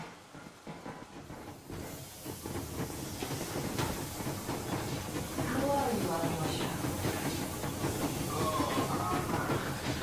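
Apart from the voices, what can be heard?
steam train moving in Metro Exodus video game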